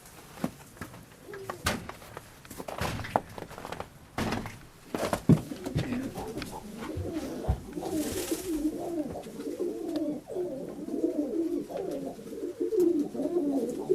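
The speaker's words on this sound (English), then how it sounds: "this is where Tony Patti keeps all the male birds" Male show pigeons, helmets, nuns and tumblers, coo in soft rolling bursts that overlap and build toward the end, mixed with scattered wing flutters and knocks inside the coop.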